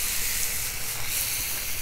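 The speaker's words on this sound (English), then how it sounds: "Sizzling quite well, as you can hear." Steady, dense sizzling of chuck eye steaks frying on a hot griddle over a 200,000 BTU high-pressure burner, a continuous crackling hiss with no pauses, fairly close.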